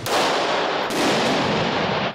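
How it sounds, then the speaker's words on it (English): Firing rounds at an indoor shooting range in Austin, Texas from a do-it-yourself 3D printed metal gun, a homemade Browning; loud, dense reports and echoing blasts fill the whole moment with a brief dip partway through. "these men are firing rounds with a do-it-yourself firearm, the world's first 3D printed metal gun"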